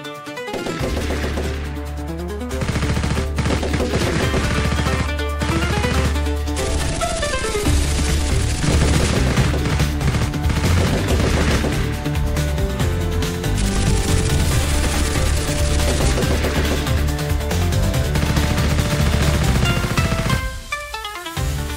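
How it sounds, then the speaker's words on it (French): Heavy machine gun fire in a boat chase on the water during Prohibition-era rum running, with loud sustained bursts over a dense, layered soundtrack for the full length. "une imposante mitraillette pour, lors de courses-poursuites, tirer sur les navires qu'il juge hostiles"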